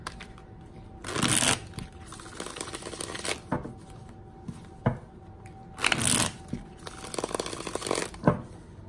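Bursts of tarot cards being shuffled, two main riffling runs with lighter handling and taps between, close and fairly loud with no talking.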